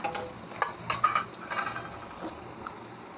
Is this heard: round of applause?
no